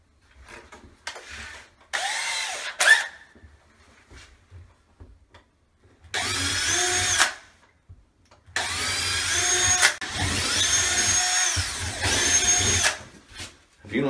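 Several bursts of a power drill boring into a drywall wall with no stud behind it, each running a few seconds with pauses and faint handling noises in between.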